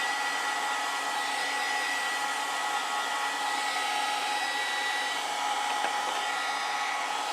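A hair dryer blows steadily close by, drying a watercolor landscape painting, an even loud whooshing hum that never changes through the whole stretch.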